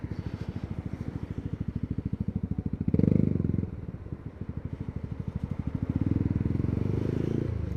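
Yamaha MT125 motorcycle with a loud aftermarket-style exhaust riding along, a steady pulsing engine drone that swells louder mid-ride and again near the end, close and continuous with no talking.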